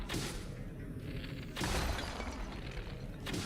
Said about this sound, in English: that's just satisfying, just shattering